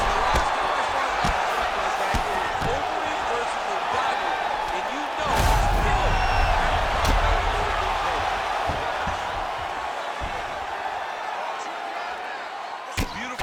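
Crowd noise roars steadily in the background of the fighting video game EA Sports UFC 5, swelling midway, with a commentator talking over it and a few sharp impact thuds.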